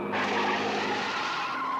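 A truck brakes hard and skids to a stop, its tyres letting out one loud, sustained squeal that fades slightly toward the end, with no voices.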